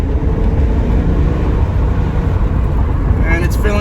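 A Pontiac Firebird Trans Am engine at medium throttle while driving on the road, a steady loud low drone with road noise throughout and a brief higher sound near the end.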